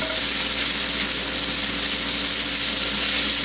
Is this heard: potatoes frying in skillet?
yes